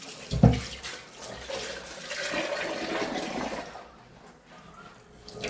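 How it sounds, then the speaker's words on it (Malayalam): Water runs from a tap with a steady, splashing rush that eases and fades toward the end. "ഇച്ചിരി വെള്ളം എടുക്കട്ടെ കഴുകി"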